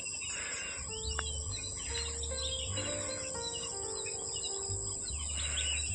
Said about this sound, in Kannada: ಹಕ್ಕಿಗಳ ಸೌಂಡು ಹಾಗೆ ಗಾಳಿ ಬೀಸೋ ಸೌಂಡು ನಿಮಗೆ ಕೇಳಿಸ್ತಿರ್ಬೋದು.